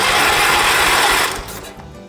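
The starter cranks the engine of a 1980 John Deere 216 lawn tractor. A loud, close mechanical churning whir holds for about a second and a half, then drops off to a quieter fading rumble.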